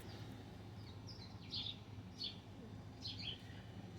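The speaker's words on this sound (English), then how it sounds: "you might hear and see some birds chirping" Small birds chirp in a garden, three or four short bright tweets spaced apart at moderate distance over a steady low outdoor hum, with no talking.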